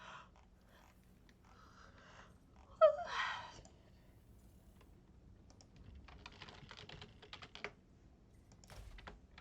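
Keyboard typing in Elder Scrolls Online during casual housing play, a scatter of quiet clicks under faint game ambience, with a louder burst of noise partway through.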